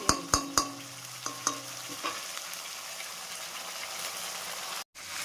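Onions and ginger-garlic paste fry with masala for a besan curry: a few sharp utensil knocks at first, then a steady close sizzle that continues on its own.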